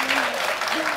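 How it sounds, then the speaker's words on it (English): Brief burst of studio audience clapping during a televised health discussion programme, loud and close, with a voice calling out over it. "Jerry, do you get a little applause here from our audience here"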